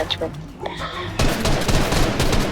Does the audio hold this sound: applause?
no